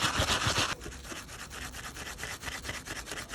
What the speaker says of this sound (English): I've just got this Scotch-Brite to rough the area up